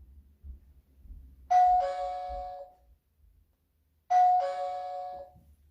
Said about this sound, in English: A lot of these robots have some kind of chime or something to help you locate the robot.